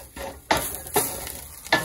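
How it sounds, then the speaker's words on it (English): Spices toast in a pan under a soft, steady sizzle, with three scraping stirring bursts at regular intervals. "So I'm toasting the spices, but I'm not making it real hot"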